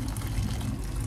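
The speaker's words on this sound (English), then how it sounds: "Just pour in hot water." Hot water pours steadily into a bowl to soak egusi soup ingredients, a brief, continuous splashing fill heard up close.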